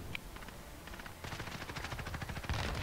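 Rapid automatic gunfire in Call of Duty Warzone, dense bursts of shots rattling continuously and building louder toward the end, with no speech.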